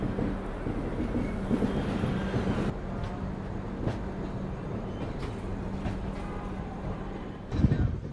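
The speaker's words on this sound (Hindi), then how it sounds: "तो दोस्तों यहाँ अपनी ट्रेन पहुँच रही है अभी चक्रधरपुर रेलवे स्टेशन में" The Geetanjali Express rolling into Chakradharpur, a small three-platform station, with a steady close rumble of wheels and carriages under wind noise, a few brief clanks, and a louder thump near the end.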